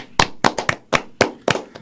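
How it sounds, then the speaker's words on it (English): Scattered hand claps at a digital marketing talk event in Dallas, about seven sharp separate claps in under two seconds rather than a full ovation, close and fairly loud. "so let's give everybody a round of applause."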